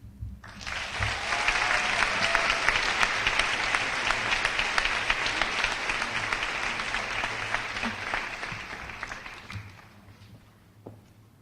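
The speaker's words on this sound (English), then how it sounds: "can we please give such a well-spoken young lady, Kaylin Camage, a round of applause?" At an 8th grade graduation ceremony, an audience breaks into a steady round of applause for a student speaker, rising quickly, holding for several seconds, then fading out.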